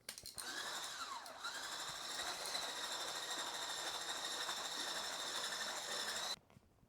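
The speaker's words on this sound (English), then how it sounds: "I'm going to whisk in my cornstarch." Whisk beating cornstarch into egg yolks in a bowl for a pastry cream, a steady fast scraping whir that runs loud and unbroken for about six seconds before stopping.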